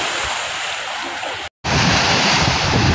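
Big sea waves rolling on Manila Bay, heard from a fishing boat as a loud, continuous roar of surf and wind buffeting the microphone, with a brief dropout midway.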